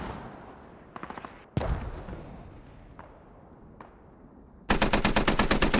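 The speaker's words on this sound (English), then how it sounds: "Interestingly, gun run coming in." Gun run airstrike in the Squad military shooter: scattered distant shots and a heavy impact, then a loud, rapid, sustained burst of automatic cannon fire close at the end.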